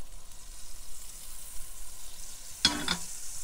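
Breaded redfish fillets sizzle steadily in a hot pan inside a van, a soft continuous frying hiss with a brief louder crackle and splatter near the end; no talking.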